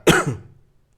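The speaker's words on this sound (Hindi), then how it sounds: "खांसी बहुत ज्यादा" A single sharp cough, close and loud, decaying quickly into silence.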